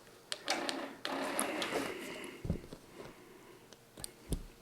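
A quilting sewing machine driven by a Pro Stitcher system tacks its stitches, producing a run of busy mechanical whirring and clicking with a couple of dull thumps, close and moderately quiet.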